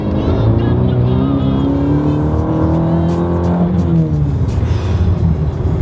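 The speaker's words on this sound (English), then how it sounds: "This thing sounds like a real car now when you accelerate." A car engine revs up loudly as it accelerates, pitch climbing steadily from inside the cabin, with a faint voice underneath.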